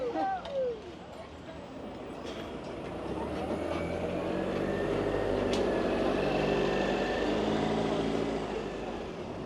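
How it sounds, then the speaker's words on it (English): A tram rumbles through a busy street, a long rolling mechanical roar that swells and holds close by, with people's voices audible early on. "there is a lot of trams passing through"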